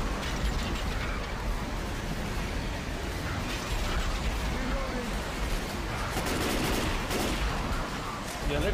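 Rapid gunfire from the zombie shooter Left 4 Dead 2 during a rainy night level, dense bursts and mechanical clatter running continuously under and between players talking.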